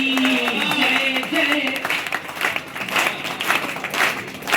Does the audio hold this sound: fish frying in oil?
no